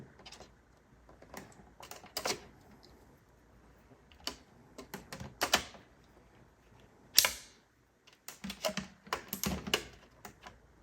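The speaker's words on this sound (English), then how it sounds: "I'm going to say screw it and cut it to get it to fit." A metal shield snipped to fit inside an iMac G4, sharp close clicks and crunches of cutting in irregular clusters with quiet pauses between, no talk.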